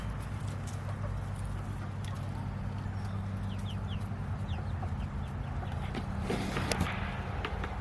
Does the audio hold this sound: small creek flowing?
no